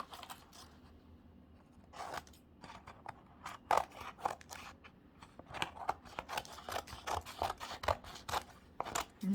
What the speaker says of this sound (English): so I do need some scissors, and let's just cut this down.